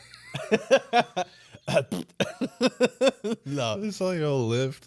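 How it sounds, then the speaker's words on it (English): A person gives a short, sharp cough in the middle of loud, close conversation between friends, with talking before and after it. "No, I coughed."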